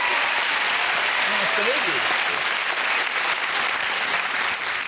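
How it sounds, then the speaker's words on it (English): A comedy TV studio audience delivers loud, sustained applause for an Irish dancing champion, a dense roar of clapping with a brief spoken exchange heard faintly beneath it. "That's worth a round of applause."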